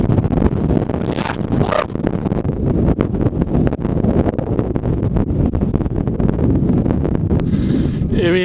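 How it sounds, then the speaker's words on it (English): On a windy day on a Mallorca mountain road, gusts batter the microphone with continuous loud roaring and buffeting that swamps everything else for the whole stretch. "maybe you can hear me through this wind. It's a windy day."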